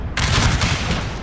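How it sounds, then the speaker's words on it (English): A 6-pounder cannon fires in a strategy video game, a loud, dense burst of gunfire that starts abruptly and rolls on as a sustained crackling barrage, with no talking. "But at least this cannon is firing."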